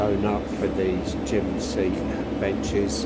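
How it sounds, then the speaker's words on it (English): A workshop fan in an upholstery shop runs as a steady broadband whoosh throughout, with someone talking over it close by. "Excuse the noise, it's the fan."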